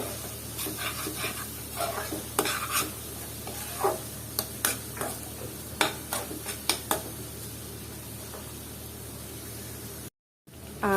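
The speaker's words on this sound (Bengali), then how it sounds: "আর এটাকে আমি আবারও মশলাটা ভালো মতো কষিয়ে নিচ্ছি" Cumin and coriander spice paste is stir-fried in oil in a pan, with intermittent spatula scrapes and clinks over a faint hiss, then a brief drop to silence near the end.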